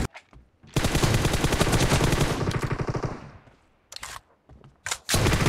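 Rapid automatic gunfire from the BGMI mobile battle royale game, a long loud burst of fast repeated shots, then a pause and a few shorter bursts at close range, with no talking.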